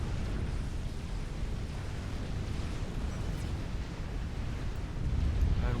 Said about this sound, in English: That support commander explosion signals the arrival of UD's Colossus at Sneed's main base.